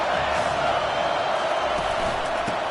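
A big crowd cheers at a college football stadium with Auburn playing, a steady dense roar throughout the short stretch, distant and unbroken.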